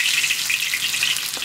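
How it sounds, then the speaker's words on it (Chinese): Ginger dropped into hot oil in a wok gives a bright, close crackling sizzle that holds steady and fairly loud for the short moment. "我们先把这个姜下进去。"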